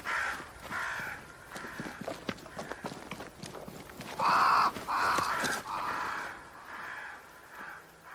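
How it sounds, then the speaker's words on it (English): Crows caw around a great tree in the video game Banishers: Ghosts of New Eden, several loud, harsh calls in uneven bursts over running footsteps and hoof-like thuds in the game's ambience. "Crows."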